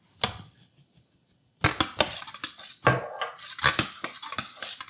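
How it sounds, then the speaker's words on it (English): A spoon scrapes and clinks against a pot while stirring creamy white bean soup, giving irregular close metallic knocks and scuffs with no voices. "Give it a stir."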